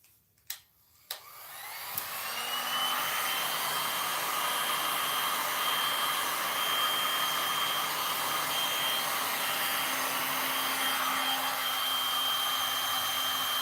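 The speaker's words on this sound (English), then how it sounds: "I am going to hit that with the heat gun" Heat gun blowing over a large three-panel resin painting, clicking on after a couple of taps, then a steady close whooshing blower hum that holds evenly to the end without talk.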